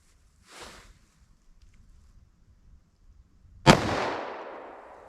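.44 Magnum jacketed hollow point fired into a layered ballistic gel block, a single sharp, loud shot with a ringing decay after a few seconds of near quiet and a faint rustle early on.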